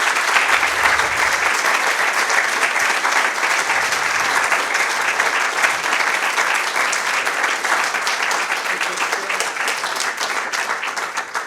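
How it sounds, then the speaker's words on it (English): A conference audience at the closing of the final day gives sustained applause to presenters, dense clapping from a large crowd that stays loud throughout and tapers slightly near the end. "one last round of applause to all the presenters for all 3 days"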